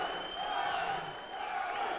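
A party crowd at a Strictly Come Dancing themed Christmas party applauds and cheers after a dance, with steady clapping and whoops that sound slightly distant and run throughout the short moment.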